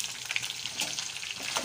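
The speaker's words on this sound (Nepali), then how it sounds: "अब प्याज यसलाई प्याजलाई पनि रातो पारेर भुट्छु।" Chopped onions sizzle and fry steadily in a hot pan, browning with a dense, continuous crackling hiss and no talking.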